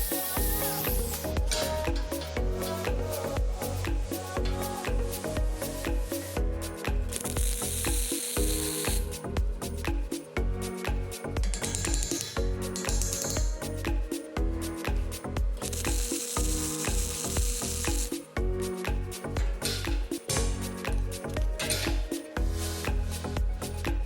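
Welding on steel gusset plates for a workbench gives a continuous loud crackling sizzle with rapid irregular pops, close and steady for the whole stretch.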